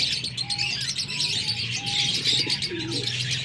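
Pigeons coo softly close by in a loft with young birds, low throaty calls repeating under faint chirps and light background rustle.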